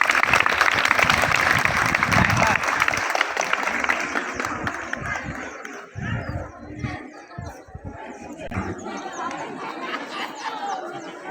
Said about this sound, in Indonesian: Tepuk tangan untuk pemirsa PAC Lengkong.